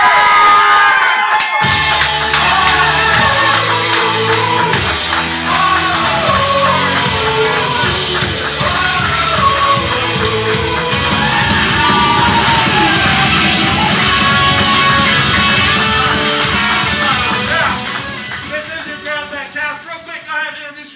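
A big crowd cheers, claps and shouts loudly and continuously at an improv comedy show in Oklahoma City, with whoops and yells rising over a dense roar before fading toward the end.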